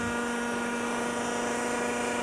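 A steady, high-pitched motor whine with a strong constant hum runs continuously from a 1985-era RC model helicopter engine running close by.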